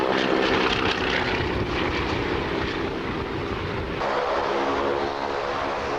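Old propeller aircraft droning steadily throughout, a loud continuous engine and airscrew hum with a slight shift in tone partway, heard alone with grainy VHS-era quality.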